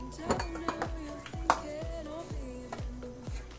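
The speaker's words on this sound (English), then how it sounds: "your baking soda and your spices. Just go ahead and stir it out." A utensil stirs baking soda and spices into zucchini bread batter, striking the bowl in a steady rhythm of close clinks and knocks, about one every half second.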